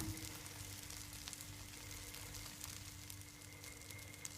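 Bread fries in a pan on a stove turned down low, giving a steady, soft, even sizzle with faint crackles and no talking.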